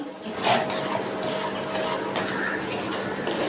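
A spoon stirs sugar into roasted semolina in a pan, giving steady close scraping and light metallic clinks with no talking.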